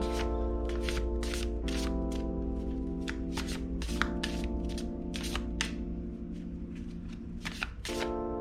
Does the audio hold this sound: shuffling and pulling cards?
yes